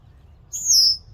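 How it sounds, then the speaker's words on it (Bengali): A black bird near a lake and woodland gives a single short, high, clear call or whistle, fairly near, over quiet low background noise. "সুন্দর একটা পাখি,"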